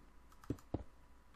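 Two quick, quiet clicks of a computer mouse, about a quarter second apart, against faint room hiss during a Minecraft session.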